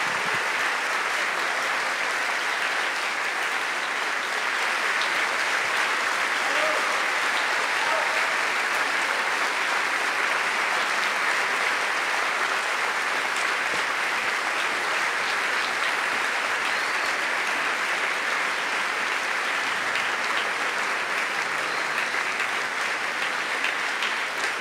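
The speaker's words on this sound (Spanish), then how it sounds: "Fortísimo el aplauso para este maravilloso flautista" Concert hall audience applauding a flutist after a Liebermann flute concerto with orchestra, sustained, loud, uniform clapping from a large crowd that continues without a break.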